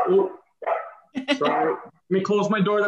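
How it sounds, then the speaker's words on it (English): A pet dog barks in a home in short yapping bursts separated by brief pauses, mixed with a person talking nearby. "that's my dog barking."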